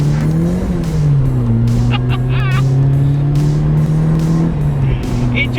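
A Ford Escort RS Turbo-engined RS1600i runs at close range with a loud, steady engine drone that shifts pitch slightly as the car pulls over, and some brief squeaky higher sounds occur over it.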